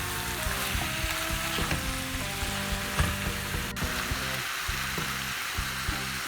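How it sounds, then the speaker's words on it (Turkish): Zucchini fry in olive oil with a spoonful of sugar, giving a steady loud sizzle throughout with occasional crackles and light stirring clatter, and no voices. "Kabaklarımız kavruluyor."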